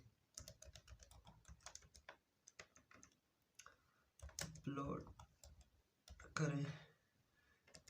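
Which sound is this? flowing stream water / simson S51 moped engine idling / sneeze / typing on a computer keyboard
typing on a computer keyboard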